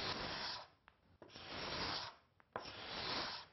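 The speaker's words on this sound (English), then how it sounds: "we can scrape with the scraper almost vertically" A hand scraper drawn almost vertically over wood, taking aggressive shavings in three long rasping strokes with brief pauses between, close and clear with no talking.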